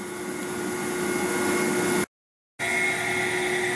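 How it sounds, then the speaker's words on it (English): A metal lathe runs steadily, boring holes in a drive shaft yoke during a Cummins 8.3L swap into a Hyster forklift. It gives a loud, continuous machine hum with a steady whine, cut off by a brief silent gap midway. "So we'll fire the lathe up and get these holes cut"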